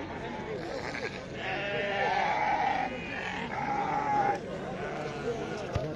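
Sheep bleat repeatedly at the Tuesday livestock market in Azrou, with long, wavering calls over a dense background of people talking and the bustle of the market.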